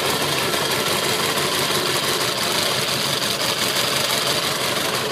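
A mini airboat engine with a Circle S drive and stainless steel exhaust idles at a steady, rapid, even chug, loud and close with no talking.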